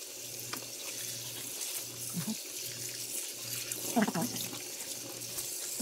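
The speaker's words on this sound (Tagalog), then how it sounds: "Hugasan po natin." Cured homemade ham being washed under a running kitchen tap, a steady close hiss of water into the sink with brief splashing bursts as the meat is handled, a faint low hum underneath.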